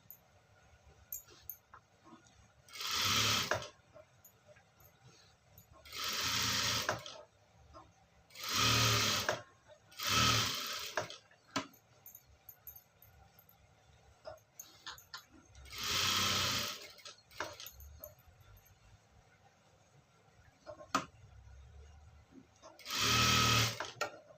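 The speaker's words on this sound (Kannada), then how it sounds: "ಫ್ರೀಯಾಗಿ ಆರಾಮಾಗಿ ರಿಂಕಲ್ಸ್ ಬರದೆ ಸುತ್ತಲೂ ಒಂದು ಸ್ಟಿಚ್ ಹಾಕೊಳ್ಬೇಕು" A sewing machine stitches around the edge of a fabric piece in several loud whirring bursts of a few seconds each, separated by quiet pauses.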